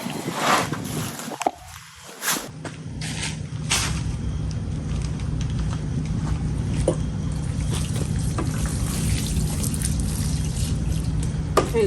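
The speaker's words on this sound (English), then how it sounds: "Well, I gotta water him." A plant is watered outdoors with about two gallons of water, giving a steady, close trickling splash that runs on for several seconds after some brief handling noises.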